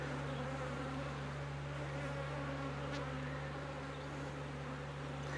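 Honeybees swarm around an open, queenless hive, producing a dense, continuous buzzing drone that holds steady and close without pause.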